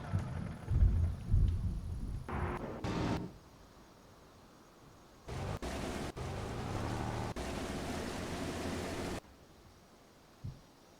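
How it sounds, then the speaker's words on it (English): Thunder in a storm in the video game Farming Simulator 25, heard as deep, loud low rumbles in two long rolling bursts with quieter gaps between them, and no voices. "Can you hear the thunder?"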